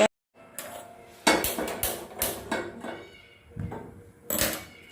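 Heavy old gas stove burner parts being set back on top, several loud metallic clanks and rattles in irregular bursts, with a short ringing tone after each, close by and with no talking.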